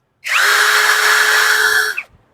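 An ORA cordless drill driver, a two-speed 50 Nm, 2800 RPM model meant for driving screws into metal, whirs loud and steady at close range for nearly two seconds, then spins down to a stop.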